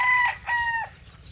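A sweater-breed gamecock rooster on a game farm crowing twice in quick succession, nearby and clear, the second call longer and dropping off at the end, no speech.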